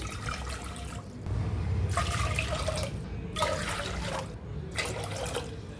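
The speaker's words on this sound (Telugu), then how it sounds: "అందులోకి ఇప్పుడు ఫోర్ కప్స్ వాటర్ వేసుకోవాలి" Water is poured from cups into a pressure cooker in three separate splashing pours with short pauses between them, loud and close.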